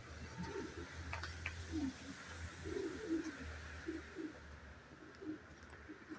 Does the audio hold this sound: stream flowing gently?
no